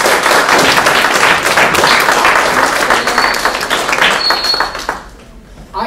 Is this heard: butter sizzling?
no